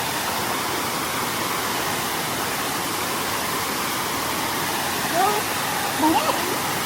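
Steady broadband roar of falling water at Thep Phana waterfall in Chaiyaphum, continuous and fairly loud throughout, with a couple of faint brief sounds near the end.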